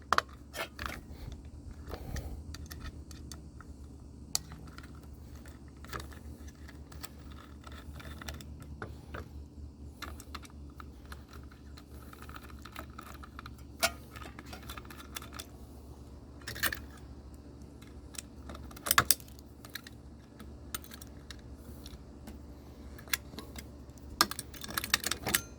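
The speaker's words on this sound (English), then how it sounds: "There's two different size star screws. Just going to start taking apart everything." A Seagate hard drive being taken apart, with faint scattered clicks, taps and small metallic clatters of a driver working star screws and handling parts, close and quiet with irregular bursts.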